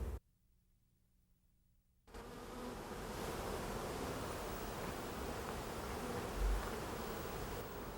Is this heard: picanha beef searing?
no